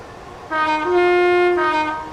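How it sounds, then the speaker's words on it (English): Class 321 electric multiple unit sounding its horn at a level crossing in Train Simulator 2021 on the Crouch Valley Line: one loud, sustained two-tone blast of about a second, its pitch stepping up partway through, with no voices. "there's quite a lot of level crossings on this route, so expect a lot of horns."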